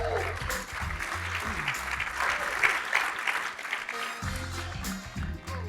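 Sustained audience applause at a marketing agent competition as judges are introduced, dense and steady clapping with low voices or music murmuring underneath throughout.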